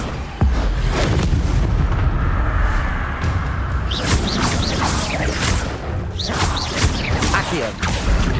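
Repeated Confringo fire-spell blasts in the video game Hogwarts Legacy, booming explosions with crackling bursts over a dense, loud battle din, several impacts across the stretch.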